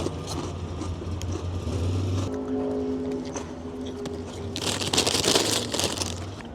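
Chile lime pork rind snack being crunched, with crackly bites rising loudest near the end over a noisy, rumbling background.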